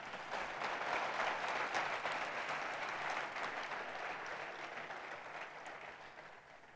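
Sustained audience applause during a talk session, steady and moderately loud throughout, gradually easing off toward the end without any voices.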